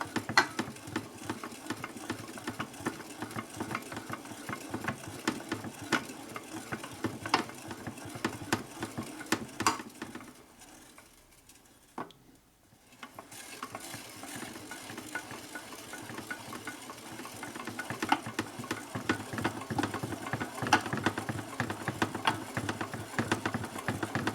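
A rebuilt 1961 Harley-Davidson FL 74ci panhead motor turned over with its cam gears lapping the backlash gives a steady whirring, gritty mechanical drone. It briefly drops away near the middle, then resumes at a similar level.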